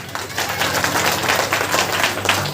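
A church congregation claps loudly during a Sunday healing service, a thick continuous wash of many hands over a low sustained tone, with no pause across the stretch.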